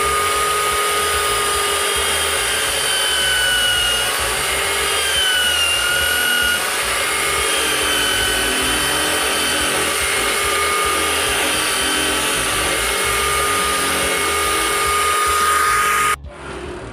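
Small power drill boring into emerald and jade gemstone, a continuous high whining drone held steady for about sixteen seconds before cutting off abruptly, with no voices.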